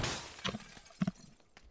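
Glass window shattering in PUBG, a brief crash followed by a couple of faint tinkling breaks and small knocks, heard at moderate distance and fairly quiet.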